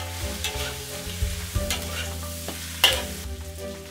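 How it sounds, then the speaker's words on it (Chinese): Meat stir-fried with ginger, garlic, dried chilies and fresh chilies in a hot wok, a continuous close sizzle broken by scraping strokes of the spatula and a few sharp clanks. "接着把肉拨到边上，下姜、蒜爆香，再加入干辣椒、鲜辣椒，快速翻炒"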